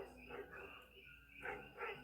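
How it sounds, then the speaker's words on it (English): A neighbor's dog barks faintly in the distance, a few quiet yips and barks under a low background hum. "I don't know what my neighbor's dog's barking at."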